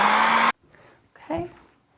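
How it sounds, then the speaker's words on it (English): A hair dryer blows on a mixed media collage, a loud steady whoosh for about half a second that cuts off abruptly, followed by quiet with a faint, brief voice-like sound. "And then, of course, hair dryer, because ain't nobody got time for drying things."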